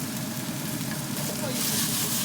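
Pork slices sizzle steadily as they fry in a pan for a stir-fry, giving a continuous, close, crackling hiss that grows slightly louder toward the end.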